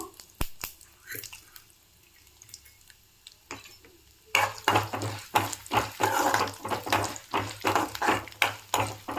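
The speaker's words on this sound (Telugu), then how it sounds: "ఆయిల్ వేడైంది ఇప్పుడు ఇందులోకి పోపు గింజలన్నీ వేసుకున్నాము" Tempering seeds hit hot oil in a kadai: after a few quiet clicks and taps, a loud crackling sizzle bursts in midway and keeps popping and spitting in rapid irregular bursts, no one speaking.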